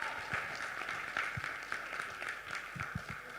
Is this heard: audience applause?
yes